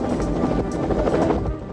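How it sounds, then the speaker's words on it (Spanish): Helicopter lifting off above water during a rescue, a steady heavy rotor thrum and engine roar filling the scene, loud and continuous with wind buffeting the microphone. "el helicóptero se eleva y la lleva volando a tierra"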